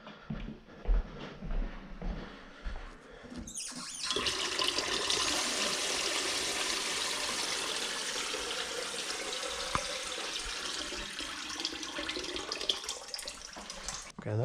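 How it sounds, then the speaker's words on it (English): A faucet upstairs in a house with a pinhole leak in the water main is opened after a few faint clunks and rushes into a steady, hissing stream that runs at moderate volume to the end. "open a faucet, open up your taps upstairs."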